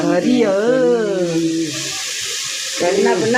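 Onion, ginger, garlic, curry leaves and fennel seeds sauté for a beef bone curry, giving a steady, moderate sizzle close by that sits mostly under a person talking.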